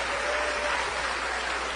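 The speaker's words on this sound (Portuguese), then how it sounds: "vamos dar a melhor salva de palmas para a palavra de Deus" A dense church congregation claps steadily and loudly throughout, a continuous wash of applause with no pauses.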